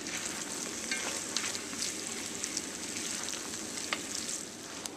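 A tomato and raisin mixture sizzling steadily in a pan while being stirred, a continuous close frying hiss broken by light scraping, with no voices.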